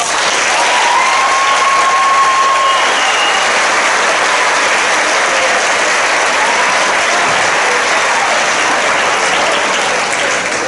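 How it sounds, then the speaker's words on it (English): Steady, sustained applause from an audience at an 8th grade continuation ceremony, broad and even for about ten seconds without break. "let's all give them a round of applause"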